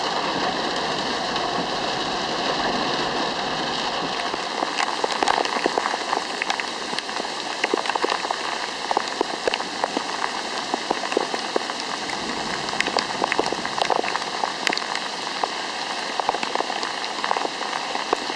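Heavy rain pours steadily onto pavement and water during an April 2013 flood in front of the police station on Robert Palmer Drive in Elmhurst, Illinois, a dense continuous hiss with scattered louder drops throughout.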